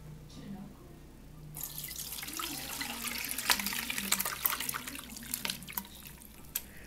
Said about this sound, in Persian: حالا صافش میکنم.